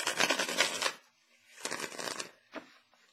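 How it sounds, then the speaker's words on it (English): Tarot cards shuffled by hand in a quiet room: a long burst of riffling and sliding, then a pause, a second shorter burst and a final brief flick, close and fairly soft with no talking. "So I just want to start shuffling the cards for January."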